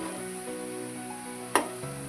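Potato pieces frying in a pan give a steady, close sizzle with a sharp clink of a utensil partway through.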